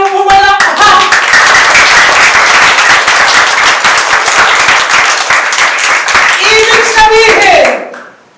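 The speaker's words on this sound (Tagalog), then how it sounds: "Ang hina niyo pumalakpak!" A congregation claps at a gospel service, dense continuous applause from many hands filling the room steadily before tapering off at the end, with brief voice fragments at the start and close.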